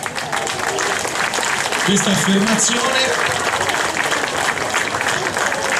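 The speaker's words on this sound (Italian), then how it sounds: "E possiamo comunque sottolineare con un applauso anche" Audience applause at an art award ceremony in Livorno, steady clapping from a crowded hall heard under and alongside a speaker's voice.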